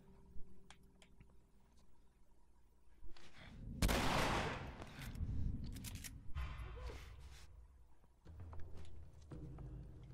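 A gunshot from The Last of Us: a sharp, loud report rings out a few seconds in, with a lingering rumbling tail amid game ambience and smaller clicks, no talking.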